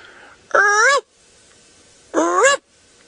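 A human voice imitates a jackal's alarm call at dawn on safari: two short, wavering yelping cries, loud and close, separated by a brief pause.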